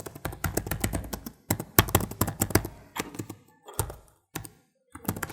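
Close-up typing on the full-size backlit keyboard of a Dell Vostro 5620 laptop, with rapid bursts of crisp key clicks broken by short pauses and a few isolated taps at the end.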